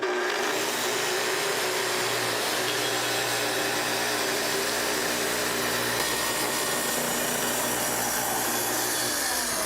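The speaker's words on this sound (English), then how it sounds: "To make your cut, first start the saw, then plunge down to your depth setting and advance into the workpiece slowly." A Festool TS track saw runs at a loud, steady high-pitched whine, with a sustained cutting roar into wood and a slight drop in pitch as the blade feeds into the workpiece, running continuously throughout.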